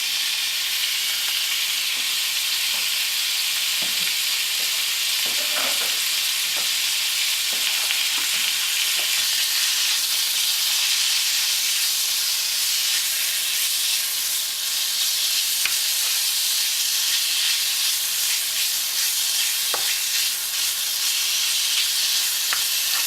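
Pork fries in hot sesame oil with a strong, continuous hiss and sizzle, broken by occasional clicks and knocks from stirring in the pan.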